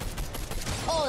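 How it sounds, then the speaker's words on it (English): A shotgun fires in a video game, a sharp blast followed by a brief electronic whine, with game noise and a voice nearby. "Oh, that shotgun sucks."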